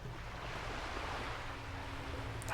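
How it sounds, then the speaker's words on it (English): Gentle ocean waves and surf wash through World of Warcraft Classic game ambience, a continuous soft rushing with a faint tone and a brief brighter sound at the end. "Oh, listen to the water. The waves."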